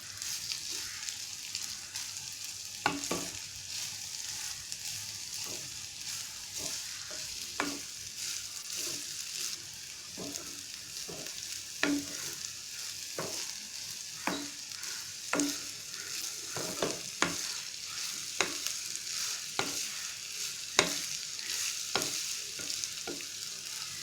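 Sliced mango ginger sautés in hot oil with a soft continuous sizzle, while a spoon scrapes and knocks against the pan in irregular strokes throughout.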